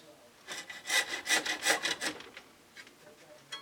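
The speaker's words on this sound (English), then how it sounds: "Now here's just a regular hacksaw, and I'm going to use, as I said, to cut the plastic." A regular hacksaw cutting plastic model railroad track, several quick rasping back-and-forth strokes in a rhythmic burst that then tails off, close up.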